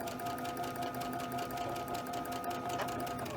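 A sewing machine runs steadily at a 2.5 stitch length while joining quilt pieces, giving a continuous, even, fairly quiet mechanical whir with a fast regular patter and no pauses.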